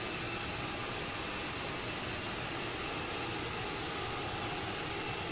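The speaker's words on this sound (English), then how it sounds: "Listen to that APU spool." Auxiliary power unit of an Airbus A320neo spooling up in the X-Plane 11 flight simulator, a steady, broadband whooshing roar that holds constant and fairly quiet throughout, with no voices.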